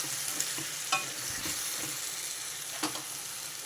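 A chicken and brinjal curry is stirred in a pan over a soft, continuous sizzle, with a few brief scrapes and taps of the spoon at an even, quiet level.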